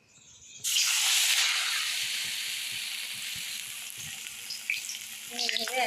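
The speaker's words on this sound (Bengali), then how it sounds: "এই পাতাগুলি আমি ব্যাটারে ডুবে ডুবে কড়াইতে দেবো।" Battered elephant foot yam leaves dropped into hot oil in a kadai, bursting into a loud, steady sizzle that settles into continuous frying, with a brief faint voice near the end.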